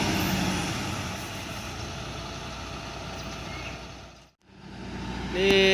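A large LBJ Transport Panglima bus with air suspension pulls away from a roadside stop, its engine droning and rumbling steadily at close range, dipping briefly before rising again, with a sharp hiss of air at the end.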